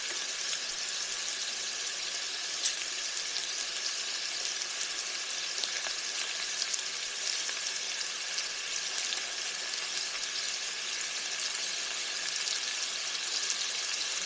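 Chicken frying in a skillet gives a steady, even sizzle with faint crackles and pops throughout, moderately close and with no talking.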